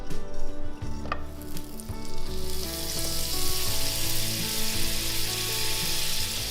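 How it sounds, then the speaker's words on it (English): A tablespoon of butter melting in a hot skillet gives off a steady, dense sizzle that builds and holds, with a few faint utensil clinks early on and no talking. "add a tablespoon of butter to this hot skillet"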